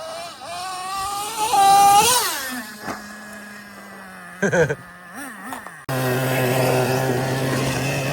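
A Traxxas Slayer RC truck motor whines and revs in rising and falling sweeps, then settles into a steady drone that cuts off and comes back as a louder, buzzy sustained whine.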